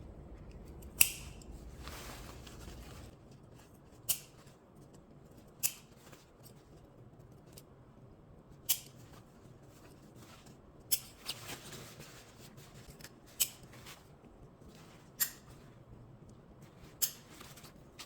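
Scissors snip through fabric collar pieces for a hooded outer garment, giving a series of sharp, separate cuts at a slow, uneven pace, roughly every one to three seconds, close and crisp against a quiet room.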